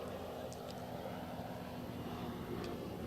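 An airplane passes overhead near Virginia Beach as a steady, broad rumbling drone that stays constant throughout, with faint voices talking in the background.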